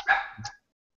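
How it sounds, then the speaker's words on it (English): A dog barks in a short, sharp burst, close and fairly loud, with a second softer yelp right after, then silence. "my dog has gone crazy"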